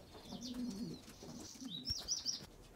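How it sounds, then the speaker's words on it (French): Racing pigeons cooing in low, rolling calls, mixed with a few higher chirps, heard at a moderate distance with soft background noise. "Ça, c'est des pigeons de course."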